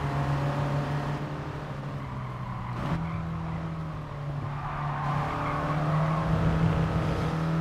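Engine drone of a 1965 Mini Austin being braked hard on the Goodwood circuit in a racing video game, a steady mid-level motor hum whose pitch wavers and dips with faint tyre scrub, no voices.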